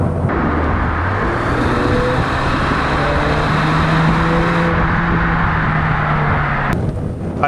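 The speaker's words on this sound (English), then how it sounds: "And in sport the engine sounds much louder." A Mercedes-Benz A200 W177 hatchback's engine in sport mode drones loudly and steadily under acceleration, with road and wind noise filling the cabin and no one talking.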